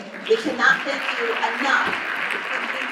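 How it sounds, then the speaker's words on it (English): Audience applause at an MLK Day of Celebration and Service event, a steady bed of clapping heard beneath a voice speaking over it. "Give yourselves a round of applause for joining us today."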